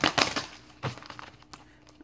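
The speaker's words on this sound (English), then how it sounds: "Let's shuffle these real good one time." Quiet, quick papery riffles and soft slaps of tarot cards being shuffled, a few short bursts close by.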